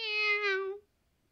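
A cat character in the video game Sky gives a single clear, tonal meow lasting under a second, close and alone, then silence.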